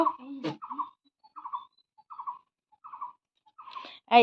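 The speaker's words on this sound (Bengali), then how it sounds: "এই সিজন আসলেই দেখো এই যে এই পাখিগুলো এত ডাকে" Birds calling outdoors in season: a series of short, evenly spaced chirping calls repeating at a moderate distance, with brief louder sounds at the start and end.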